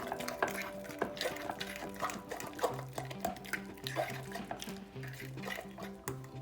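Honey being stirred into crumble topping in a bowl for a sugar-free berry crumble, giving soft, sticky scraping and light clinks of the utensil against the bowl in an irregular rhythm, with no talking.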